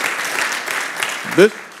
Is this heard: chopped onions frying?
no